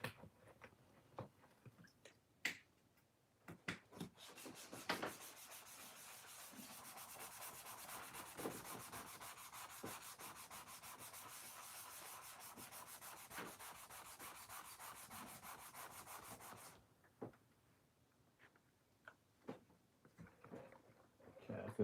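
A designer toy part is wet-sanded with 320 grit paper, quick rhythmic rubbing strokes that swell into a sustained close scratchy scrape for about twelve seconds, then give way to scattered handling taps and a faint voice.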